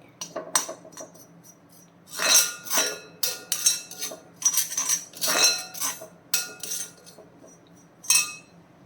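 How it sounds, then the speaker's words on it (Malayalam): Dry spice powders are stirred in a hot clay chatti for a Kerala-style roasted-coconut fish curry, giving repeated scraping and light metallic clinks of a spoon against the pot, close and fairly loud in irregular bursts with no talking. "ആ ചട്ടിയുടെ ചൂട് കൊണ്ട് തന്നെ ഈ പൊടികൾ നല്ല രീതിയിൽ ചുമന്നു ചൂടായിക്കോളും കുറച്ച് നേരം ഇങ്ങനെ ഇളക്കി കൊടുത്താൽ മതി"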